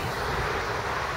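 Wind blowing outdoors at an army aviation museum beside an access road, a steady broad rushing hiss with low buffeting, loud and close on the microphone, no voices.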